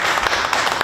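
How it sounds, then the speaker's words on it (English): An audience claps for Chef Ivan at a fundraising event, a brief burst of dense applause. "Let's give Chef Ivan a big round of applause."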